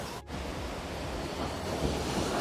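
The Torrente Albola waterfall near Riva del Garda, among mountains, rushes in a dense, continuous roar, close and steady, with no voices over it.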